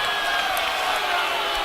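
Stadium crowd at a Vitality Blast T20 cricket match, Sussex Sharks against Somerset, a steady broad roar of many voices swelling in anticipation of a catch, continuous and fairly distant with no clear claps or talk.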